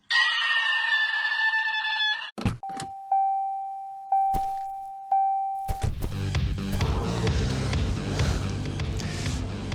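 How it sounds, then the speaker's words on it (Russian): Squealing car brakes, with worn brake pads as the usual cause: a loud, high, piercing squeal, then a steady whining tone that fades and restarts three times before giving way to a dense, noisy passage. "Скрипят тормоза."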